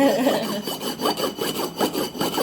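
A kitchen knife blade being sharpened against the unglazed rim of a ceramic tea mug, giving a steady series of close, rasping scrapes in a back-and-forth rhythm, loud and alone with no talking.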